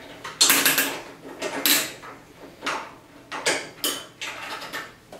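Metal bearing collars being loosened on a rusty go-kart axle give irregular clanks and scraping knocks, several bursts close by with short pauses, no talking.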